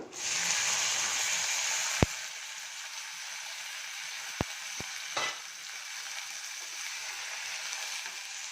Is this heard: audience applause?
no